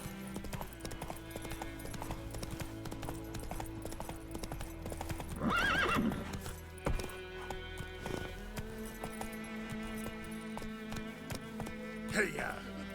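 Roach, the horse in The Witcher 3, clip-clops along in a rhythmic galloping beat, neighing loudly about midway through, while a person speaks over the hoofbeats.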